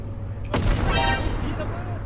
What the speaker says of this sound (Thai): เฮ้ยระเบิดเลย